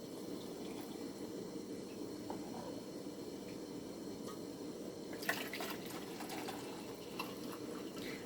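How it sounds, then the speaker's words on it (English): Boiling water poured over redbud blossoms for jelly, a steady faint liquid trickle and gurgle running throughout, with a few brief clinks near the end. "you pour the 2 cups of boiling water over your 2 cups"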